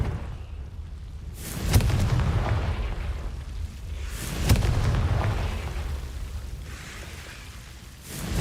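Confringo fire spell explosions in Hogwarts Legacy, three booming blasts about every three seconds, each a sharp crack trailing into a rumbling roar, fairly loud and close, with no talking.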